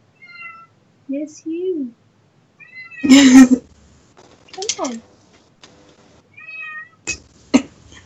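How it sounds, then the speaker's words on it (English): A cat meows loudly and repeatedly at close range, several drawn-out, insistent calls spread across the stretch, with a person speaking softly between them. "Don't just meow."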